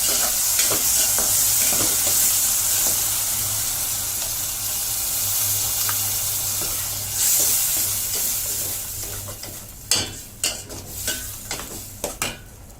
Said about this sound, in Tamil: இதில் எண்ணெயிலே இந்த மசாலாவை நல்லா வறுத்துடணும், பச்சை வாசனை போகிற அளவுக்கு.